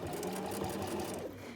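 A sewing machine runs steadily through fleece while stitching a neck warmer, its close, continuous whir and motor hum holding without pause before easing slightly near the end.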